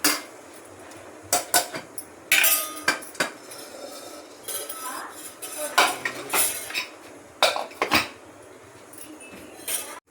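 Cooked chickpea and potato curry scooped from a pressure cooker into a pot, heard as sharp metallic clinks and scrapes of a spoon against steel, coming in irregular bursts close by.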